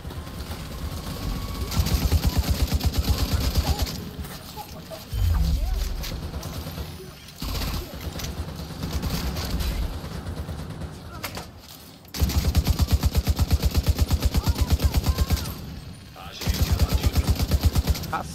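A firefight in Tom Clancy's The Division 2 brings loud, close bursts of rapid gunfire that repeat in clusters, separated by short quieter gaps.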